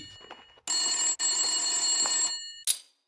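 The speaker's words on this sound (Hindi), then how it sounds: "तभी फोन की घंटी बजी।" An old-style telephone bell rings in two long, loud trills separated by a short break, followed by a brief tinkle as it stops.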